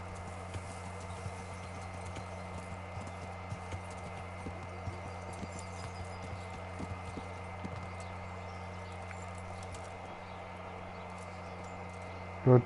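Faint, steady horse hoof clopping in the video game Kingdom Come: Deliverance ticks along under a constant low hum, ending with a brief louder knock.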